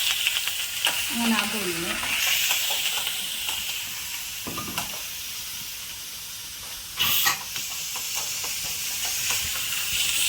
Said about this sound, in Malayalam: ജിഞ്ചർ ഗാർലിക് പേസ്റ്റ് നമുക്ക് ആഡ് ചെയ്ത് കൊടുക്കാം ഗൈസ്